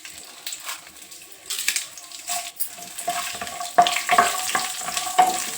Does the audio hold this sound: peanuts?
yes